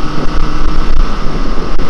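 Honda CB750F motorcycle engine revving on a cafe racer project bike, a loud, continuous rumbling drone with heavy wind buffeting, sustained without a break.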